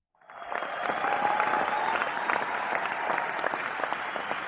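A studio audience breaks into applause that swells quickly from silence and holds steady, a dense wash of many hands clapping at moderate distance with no talk over it.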